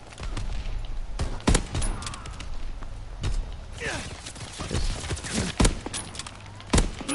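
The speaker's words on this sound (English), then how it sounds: "these people with their freaking shotguns, dude" Video game shotgun blasts go off in a free-for-all match, a string of loud sharp bangs at uneven intervals, with footsteps and other game noise in between and someone talking over them.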